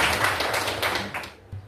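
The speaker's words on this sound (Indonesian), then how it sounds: "Terima kasih, kita tepuk tangan dulu" A class of pupils in an Indonesian classroom bursts into a brief round of hand clapping, a close, dense patter of claps that fades within two seconds, with voices mixed in.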